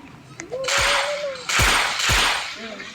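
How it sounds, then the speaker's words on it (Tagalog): Three loud, sharp gunshots in the Roblox game Murder vs Sheriff, a half-second or so apart, each with a booming low thump and a bright crack, over a steady background hum. "Baril lang yun guys."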